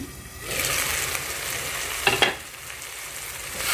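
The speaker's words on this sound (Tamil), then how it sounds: "நல்லா இப்படி மிக்ஸ் பண்ணி விடுங்க" Tomatoes fried in oil with drumstick flowers are stirred in a pan: a steady sizzle swells after a quiet start, broken by two quick, close spatula scrapes near the middle.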